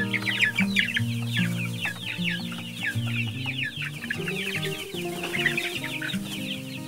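Embrapa 051 hens cluck and chatter continuously in a newly built henhouse. Overlapping calls from several birds repeat at close range, with low background hum and no talking.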